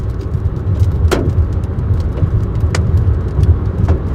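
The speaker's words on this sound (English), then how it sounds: "You can hear all the hailstones hitting the car right now." Sharp irregular ticks and clicks strike a car body over a steady low road rumble, scattered hits of hail from a Montana supercell pattering on the vehicle.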